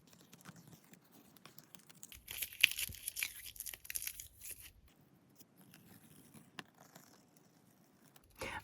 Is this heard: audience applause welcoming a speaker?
no